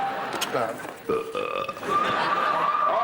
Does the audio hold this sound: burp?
yes